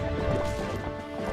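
Horse hooves clop and a horse neighs in The Legend of Zelda: Twilight Princess HD, a brief, close burst of galloping with a whinny over game sounds.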